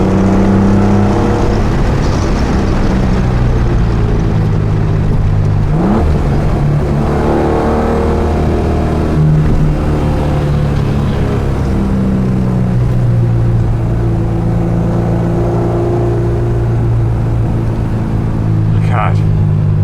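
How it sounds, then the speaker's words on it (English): A 1970 Triumph TR6 with a modified straight-six engine revs and pulls while driving, a loud, rising and falling rumble inside the car, with someone talking over it throughout. "It's actually a very tractable motor, typical Triumph straight 6."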